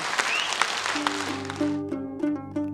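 Audience applause at a tribute event, a broad wash of clapping that fades out partway through as sustained musical tones rise and take over.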